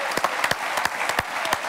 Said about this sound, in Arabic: نحب بعد إذن الببليك ماذا بيا تصفيق